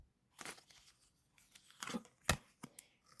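Tarot cards are shuffled and tugged from a stiff deck in a few separate bursts of papery rustling and snapping, close and fairly quiet, with silence between the handling sounds.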